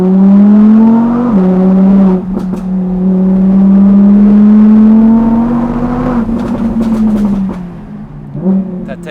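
Audi R8 engine, loud and close, holding a steady drone that climbs slowly, dips briefly and climbs again, with sharp exhaust pops and crackles bursting through during the drops in revs.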